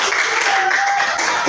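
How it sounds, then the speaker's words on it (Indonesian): Applause for a student after a floor gymnastics forward-roll demonstration in a school class, a short burst of dense clapping from a group that continues steadily. "Tepuk tangan buat Rasya."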